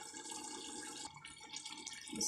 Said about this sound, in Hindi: अभी मैं तकरीबन 1 गिलास बस पानी डालेंगे।